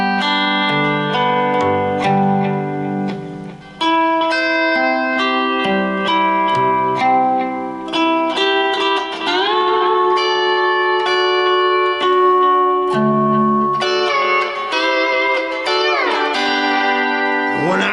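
Lap steel guitar with strings picked and slid, playing sustained, ringing notes in paired intervals that glide smoothly up and down between pitches, clear and prominent throughout.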